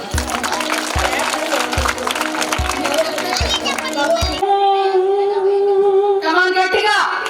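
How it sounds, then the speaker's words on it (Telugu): Steady, loud rhythmic clapping keeps time at an outdoor singalong led by a blind woman singer, roughly one clap per beat, then a voice begins singing over the claps. "గట్టిగా క్లాప్స్."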